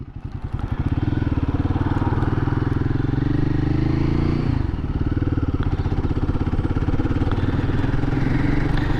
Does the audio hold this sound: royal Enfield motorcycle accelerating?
yes